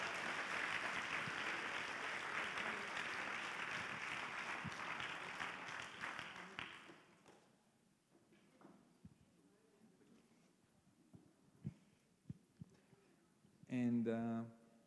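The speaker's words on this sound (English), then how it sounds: "could we have one more time a huge applause for both pilots" Loud applause from an event audience for two brain-computer-interface race pilots at a live competition in Graz, Austria, filling the first seven seconds before fading to quiet shuffling and a brief voice.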